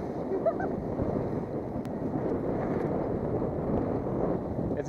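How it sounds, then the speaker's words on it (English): Steady broadband wind rush while sailing a small boat in a suddenly gusting breeze, the boat stalled in irons; a continuous, fairly loud roar with slight swells in intensity and no clear talk. "It's gusting all of a sudden."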